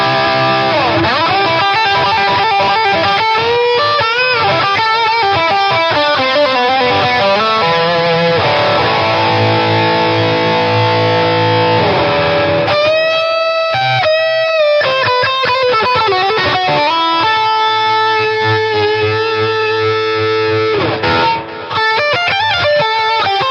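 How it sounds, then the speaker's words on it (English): Westone X390 Pantera tribute guitar plays distorted lead lines with reverb and delay, a continuous loud stream of sustained, bending notes and fast runs lasting over twenty seconds. "I can dial in some reverb, some delay, and this brings us of course in the lead tones."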